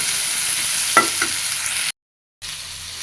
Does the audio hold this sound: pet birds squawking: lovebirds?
no